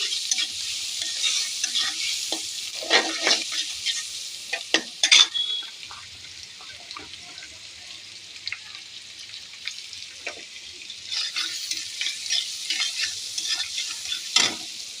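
Garlic sizzles steadily in melted butter in a pan while a spoon stirs it, with occasional scraping strokes against the pan over a constant close frying hiss, made for a butter garlic mushroom dish.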